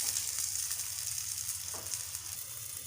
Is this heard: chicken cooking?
yes